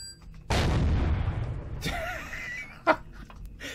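A sudden loud blast in the Empyrion video game, a broad booming explosion that decays over about a second, followed by softer game sounds and a brief sharp pop.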